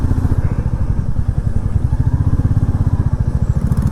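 Motorcycle engine running steadily at the start of a long ride out of Noida toward Ladakh, a close, continuous low pulsing throb with rhythmic firing and no talk over it.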